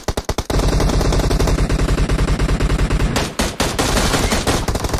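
Video game gunfire in single-fire mode plays as loud, close shots in quick succession, forming a dense, nearly continuous rattle with a brief pause partway through.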